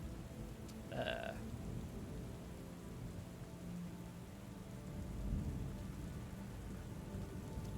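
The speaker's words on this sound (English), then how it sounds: "The storm wind plucks at you both." A storm in the video game Book of Hours: steady rain hisses throughout while low thunder rumbles softly in the distance, with one brief higher-pitched sound early on.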